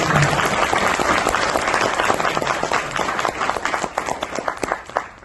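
Dense, sustained applause from an audience at a Saturday Club presentation, many hands clapping close and loud throughout before thinning slightly toward the end.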